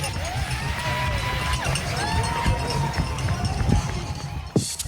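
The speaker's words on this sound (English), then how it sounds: "the crowds were loud and energizing" Marathon spectators in Chicago's Pilsen neighborhood making steady crowd noise along the course, continuous loud cheering and babble heard from the runner's position, with occasional whoops and nearby footsteps.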